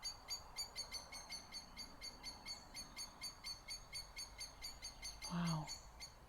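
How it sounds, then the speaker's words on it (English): Outdoors in nature, a bird calls insistently in a rapid, steady repeating pattern of high chirps throughout, over faint background hiss, with a brief voice near the end. "And this very insistent bird."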